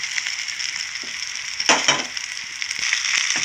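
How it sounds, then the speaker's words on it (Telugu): Potato pieces fry in hot masala in a pan for potato fry and curry, a loud continuous close sizzle with a burst of crackling and scraping as they are stirred. "ఫ్రై అయింది కదా, ఇందులో ముక్కలు వేసేసుకుంటాం"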